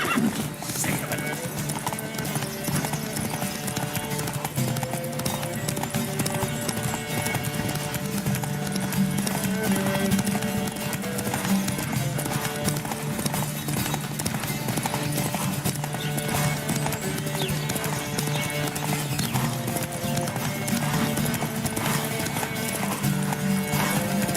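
Hooves clatter continuously in a fast galloping rhythm during a horse race in The Witcher 3: Wild Hunt, over a dense bed of music and ambient noise, loud and steady throughout.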